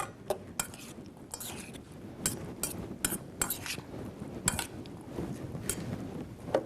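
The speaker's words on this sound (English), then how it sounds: "I'm just going to give it a quick stir" A spoon quickly stirs a pomegranate and avocado salsa in a bowl, producing a rapid run of light clinks and wet scrapes close up over a soft background, with no speech.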